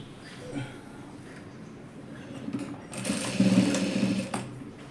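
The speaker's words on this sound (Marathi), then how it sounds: "हे दोन्ही साईडने अर्धा इंचाच्या शिलाई मार्जिनने शिवून घ्यायचे." Sewing machine stitching fabric seams with a half-inch margin for a dress made from leftover cloth, a close steady whirring run in the second half after quieter handling sounds.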